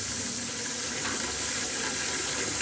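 Steady rush of water pouring into an old bathtub, a continuous broadband gush like a running tap filling the tub, loud and close with no talking.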